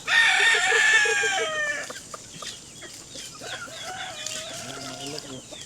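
Native chickens on a Philippine farm at snack time: a rooster crows loudly at the start, then hens keep clucking and calling softly at a closer distance, with some light background noise.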